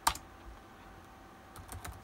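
Commands being typed on a Stone Computers NT310-H laptop keyboard: a quick burst of key clicks at the start, then a short run of several keystrokes near the end, close and fairly quiet over a faint hum.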